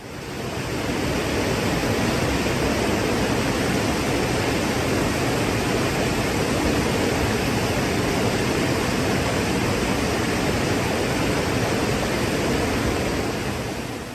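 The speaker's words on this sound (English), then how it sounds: "So this beautiful place is the Kuang Si waterfall." The Kuang Si waterfall in Laos roars in a steady, dense wash of rushing water, close and loud, with no voices.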